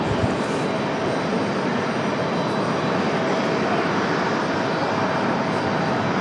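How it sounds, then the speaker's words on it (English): A Delta Boeing 737 jet at Raleigh-Durham International Airport gives off a steady, loud broadband roar that holds unchanged throughout, with no voices. "There's our Delta 737."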